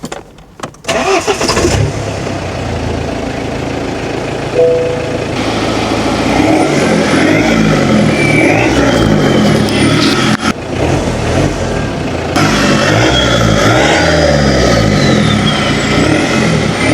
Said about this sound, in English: Let's go give it a drive and show you what this car looks like driving and what it sounds like.